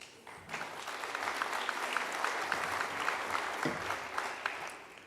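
Audience applause welcoming a speaker at a talk on weeding, tillage and nutrients, a crowd clapping steadily and warmly for several seconds after a quiet start.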